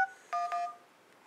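A few quick DTMF keypad tones from a Droid smartphone: a short burst, then two separate tone pairs in quick succession, close and clear with no talk.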